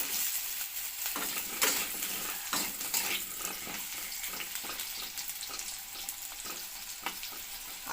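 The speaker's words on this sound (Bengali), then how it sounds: "প্রথমে আমি আলুটা ভেজে নেব।" Potatoes frying in hot white vegetable oil in a heated kadai give off a continuous bright sizzle with bubbly crackle and occasional stirring scrapes, close and without talking.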